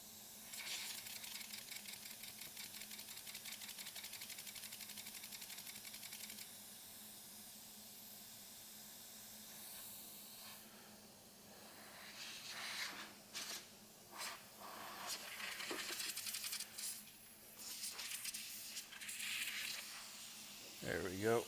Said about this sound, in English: We're going to let the coolant blow through the lines.